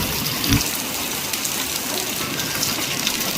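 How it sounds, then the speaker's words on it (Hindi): Heavy rain with big drops falling outdoors, a steady loud broadband wash with a few brief louder splashes near the start, continuous and close. "फिर भी बारिश आने लगी है और कितनी बड़ी बड़ी बूंदें गिर रही है"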